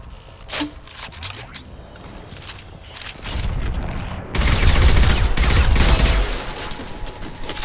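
Gunfire in the video game Mass Effect 2, with scattered shots giving way to loud, dense rapid bursts of weapon fire and explosions that swell and continue steadily near the end.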